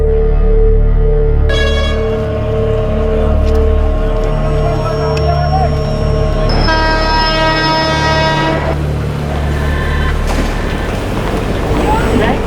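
A train idles at Raipur railway station, Amarkantak Superfast, with a loud, steady, droning engine hum and sustained horn-like tones that rise and fall over a busy platform, a voice faintly mixed in.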